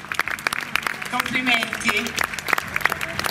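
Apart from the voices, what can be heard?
audience applause for fashion models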